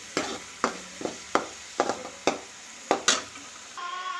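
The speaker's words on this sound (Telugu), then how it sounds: "స్మెల్ అయితే వేయించుతుంటే ఎంత బాగా వస్తుందో మసాలా మాడకుండా ఇలా తిప్పుకోవాలి" Masala spices fry in a pan while being stirred, with sharp scraping strokes about every half second over a soft sizzle, close and fairly loud; the stirring stops near the end.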